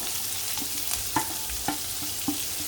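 Onion, carrot and beans frying in oil with cashews and chana dal, a steady sizzle under a slow series of spatula taps and scrapes against the pan, close and clear without speech.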